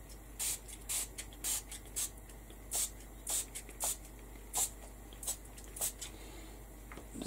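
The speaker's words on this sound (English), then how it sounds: "I'm just going to spritz right the way over everywhere" A hand spray bottle spritzes repeatedly over a mixed media canvas, about a dozen short, sharp hissing bursts in an uneven rhythm, close and crisp over a quiet background.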